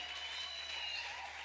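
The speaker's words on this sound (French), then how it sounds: "You are still clapping like you are jealous." Church congregation clapping after a choir has sung, a dense, continuous wash of applause from many hands filling the room and holding steady throughout.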